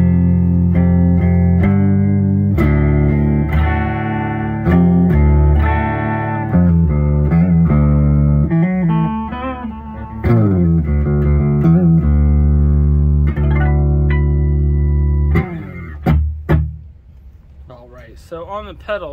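Electric guitar tuned to drop D, played through a Mooer Solo distortion/overdrive pedal into the front of a Randall RX120 RH amp, with heavy distorted chugging riffs and ringing chords, loud and close, ending in sustained notes.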